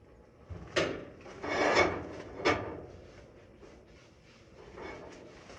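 Crisco shortening is rubbed onto a metal item on a farm, heavy to start, making a few soft, close rubbing and scuffing strokes that fade to quieter wiping.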